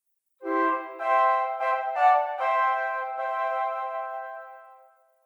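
Piano block chords moving by parallel sidestepping passing chords, a few struck chords in quick succession before a long held final chord that rings out and fades, heard alone.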